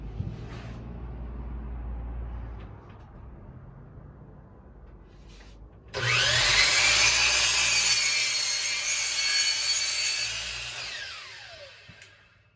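A hand saw rasps through a wooden stair stringer, trimming a small sliver off to a marked line, starting with quieter strokes and then a loud, continuous close cut before stopping.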